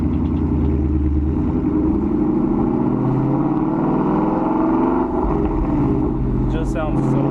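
A Mustang GT with a Corsa Extreme exhaust pulls away in first gear, its engine holding a steady, deep, raspy drone that stays loud and close throughout, with a slight shift in tone near the end.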